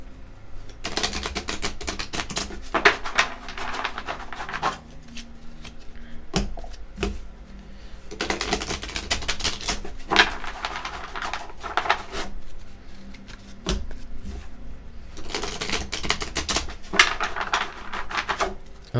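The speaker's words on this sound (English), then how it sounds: "this is a long shuffle for this here" A deck of reading cards is shuffled repeatedly in several long bursts of rapid riffling and patting, separated by short pauses, close and fairly clear.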